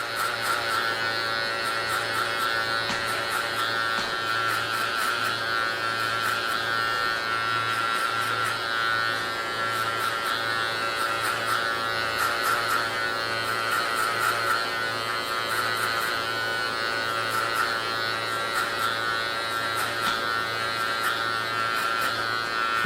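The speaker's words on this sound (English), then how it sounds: "That's all we're doing, is we flicking out with our number 3 guard with the lever all the way open." Electric hair clippers fitted with a number 3 guard, lever fully open, buzz steadily while cutting hair during a taper haircut, a close, continuous motor hum with light flicking variations and no talk.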